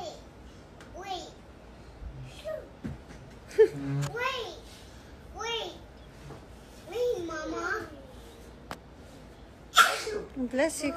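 A sneeze bursts out among a child's chatter and other voices in a busy family home, sharp and fairly loud near the end of the stretch, with kids talking around it.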